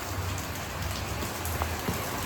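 Steady rain pours down on a rainy day in Dehradun, a dense, continuous hiss of drops on surfaces, fairly close and even throughout with no voices.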